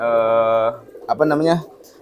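Pigeon cooing in the Indonesian homing-pigeon (merpati giring) style: a drawn-out, steady tonal coo held for under a second, then a shorter, wavering burst of cooing, close and fairly loud.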